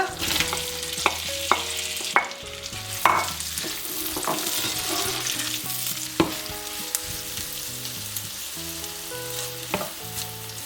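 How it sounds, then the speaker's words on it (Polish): Onion fries in hot melted butter in a pan with a continuous close sizzle and crackle, punctuated by spatula taps and scrapes, with no talk. "Wrzucę teraz cebulę"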